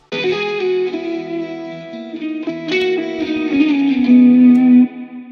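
A guitar played through the Simple reverb algorithm in AmpDesigner, loud sustained chords and notes with a smooth reverb tail ringing after each, alone for about five seconds before cutting off.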